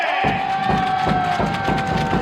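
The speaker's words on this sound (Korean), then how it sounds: "박수 치면서 함성도 함께 지내주시면 좋을 것 같아요" Volleyball fans in an indoor arena clap in a steady beat during a pre-match cheer practice, with crowd shouting and a bright sustained tone ringing over the rhythmic claps.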